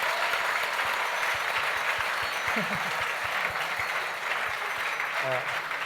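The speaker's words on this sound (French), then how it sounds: "je voudrais qu'on applaudisse tous les techniciens" An awards-ceremony audience applauds the technicians, a dense, steady wash of clapping that fills the room throughout, with faint voices and brief musical tones rising over it near the end.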